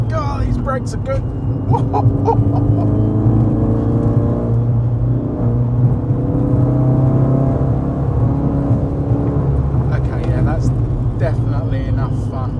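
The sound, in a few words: 455bhp Ford Focus MK3 RS car driving on road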